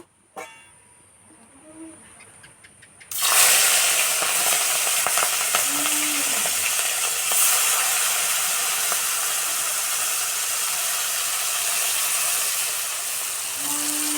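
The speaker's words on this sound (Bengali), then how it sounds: "তেল গরম হয়ে গেছে মাছ ভেজে নেব" Fish dropped into hot mustard oil in a kadai over an outdoor clay stove, a quiet start broken by a sudden loud, sustained close sizzle and hiss that holds steady, with no talking.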